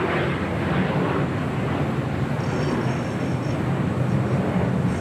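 An Airbus A380 Super airliner departing LAX bound for Seoul produces a loud, steady jet roar with broadband rumble and a faint high whine, heard from a distance without talk.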